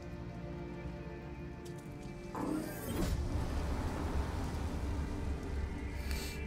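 Steady rain pours down in a cold outdoor scene of the video game Detroit: Become Human, a continuous hiss that grows louder and denser partway through, with no talking.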